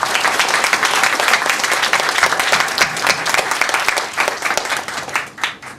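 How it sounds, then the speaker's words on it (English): A large conference audience applauds the four panelists at the close of a session, dense sustained clapping that fills the room and then thins out and tapers toward the end, with no talk over it. "I'd like to have a large round of applause for our 4 panelists"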